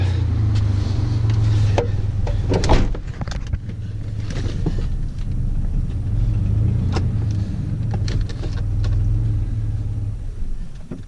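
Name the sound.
Dodge Dakota truck driving down then stalling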